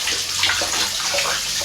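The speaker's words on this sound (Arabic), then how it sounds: "انا غسل ايدي شوي" Tap water gushes loudly and close up into a sink for a quick hand wash, a brief unbroken splashing rush with no voices over it.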